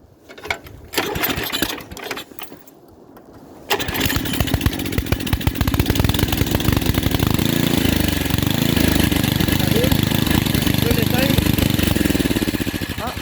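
A snow blower engine on a B7 tractor starts after a quiet opening and then runs steadily and loudly, a continuous close mechanical drone with some talk over it.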